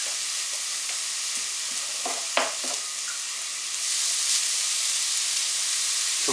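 Shredded carrots and vegetables frying in a pan for spaghetti bolognese, a steady close sizzle with occasional scraping stirs of a spoon, the hiss growing a little louder partway through.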